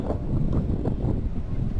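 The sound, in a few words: wind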